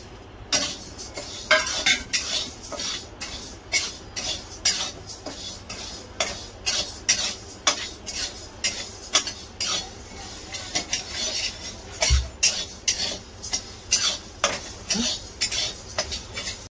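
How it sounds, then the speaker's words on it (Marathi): Urad dal is dry-roasted in a pan and stirred with a metal spoon, bringing repeated scraping clinks and light taps in an irregular rhythm over a faint, dry rustle, with no talking. "बघा, उडदाची डाळ भाजून घेतलेली आहे।"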